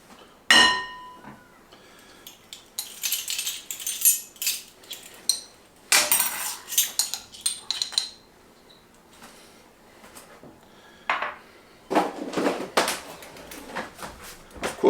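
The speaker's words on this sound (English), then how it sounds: "So we mix in the dry ingredients." Dry ingredients being mixed into vegan trifle batter in a bowl, with irregular clinks, scrapes and knocks of a utensil against the bowl coming in uneven bursts, fairly close and clear, without speech.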